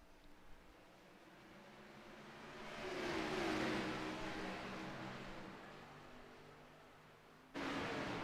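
A pace car in a sim racing game pulls off the track at Daytona with a whirring engine drone that swells and fades, followed by a sudden louder burst of engine noise near the end.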